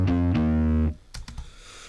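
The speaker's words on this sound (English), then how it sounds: "this is just like a normal rock bass" A deep, fuzzy rock bass guitar with distortion plays two notes in quick succession for a video game soundtrack, then cuts off, followed by a few faint clicks and rustles.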